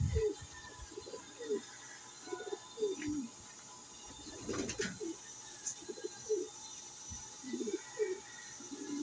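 Pigeons cooing in a loft in a repeated, soft, low series of calls. The sound is fairly quiet with a brief rustle midway and no speech.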